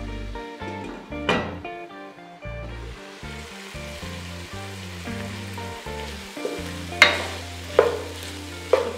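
Cauliflower with fenugreek leaves cooks in oil in a covered pan over medium flame, giving a soft, steady sizzle with a few sharp clinks and stirring knocks toward the end.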